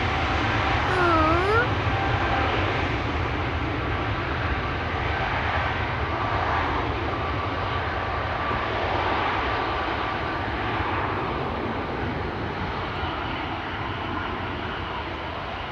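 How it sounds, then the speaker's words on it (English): An airliner's jet engines spool up at Schiphol Airport, giving a loud, steady broadband roar with a faint rising whine early on, sustained throughout at fairly close range. "the whining indicative of the spooling up of the engines"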